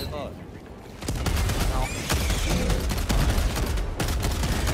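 Rapid bursts of gunfire in a chaotic first-person video game fight, loud and dense, firing almost without pause over about five seconds, with shouting players mixed in.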